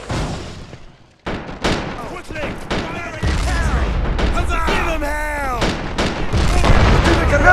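In a Men of War battle, rifle shots and heavy artillery booms crack and thud in a dense, loud barrage. Soldiers shout orders over the firing, and a whistling shell descends partway through.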